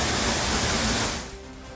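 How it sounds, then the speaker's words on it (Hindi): A waterfall thunders in heavy torrent after rain, a dense, loud roaring rush that fills everything, then drops somewhat quieter near the end. "जब बारिश होती है ना तब तो वाटरफॉल मतलब तेज धारा में गिरती है।"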